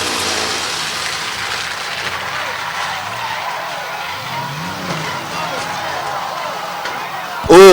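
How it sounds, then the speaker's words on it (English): Race car hitting the wall during the Midvale Speedway fall classic, with a loud, continuous roar of engines and skidding tires and a sudden heavy thump right at the end. "hard hit up there by Fickus into the wall"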